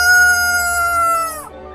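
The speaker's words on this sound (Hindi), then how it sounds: "उसकी मुर्गी फिर से कुकड़ू कू करके शोर मचाना शुरू कर देती है।" A single rooster crows loudly and close, a long bright cock-a-doodle-doo that drops off at the end.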